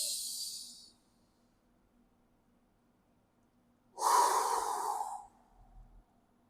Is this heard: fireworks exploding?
no